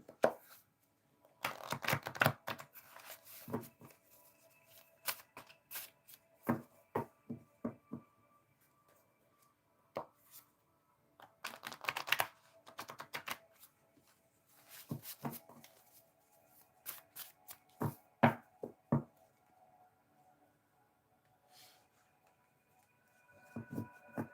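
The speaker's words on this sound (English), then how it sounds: "Let me try to shuffle these a little bit." Tarot cards are shuffled by hand at a reading, the soft riffling coming in quiet, irregular bursts separated by near-silent pauses.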